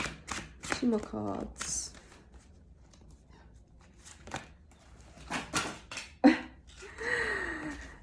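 Tarot cards are shuffled in bursts of crisp riffling and slapping, loud and close, with brief pauses between runs and occasional soft voice sounds in the background.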